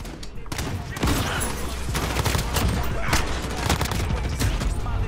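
M4A1 rifle fire in Call of Duty: Modern Warfare (2019), heard as dense, continuous bursts of rapid shots with sharp cracks and booms layered throughout.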